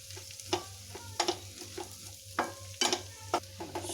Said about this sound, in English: we will mix it nicely so that the flavors blend well with each other